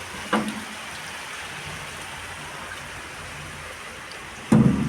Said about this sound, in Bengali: আর এত বৃষ্টি এত বৃষ্টি